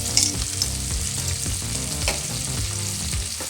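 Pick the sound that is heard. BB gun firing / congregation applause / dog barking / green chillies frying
green chillies frying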